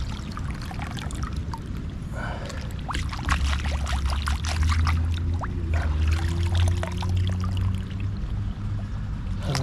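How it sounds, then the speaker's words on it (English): Water flowing and trickling steadily along a city creek, close and continuous, with no voices. "This is the only place water's flowing."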